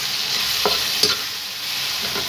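Tomato drops into a pan of onions and green chilies, setting off a loud, steady sizzle broken by a few soft stirring scrapes.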